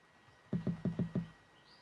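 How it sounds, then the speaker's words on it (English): Five evenly spaced, punchy low programmed kick drum hits in quick succession for a trap beat, dry and isolated, followed by near silence. "This is how my kick sound"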